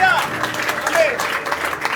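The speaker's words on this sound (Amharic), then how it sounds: "ለእግዚአብሔር ክብር አጨብጭቡ እስቲ።" A church congregation claps together during a worship and prayer service, a sustained patter of many hands under tonal voices or music that rises and falls throughout.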